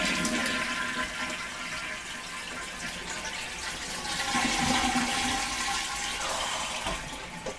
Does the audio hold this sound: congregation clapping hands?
no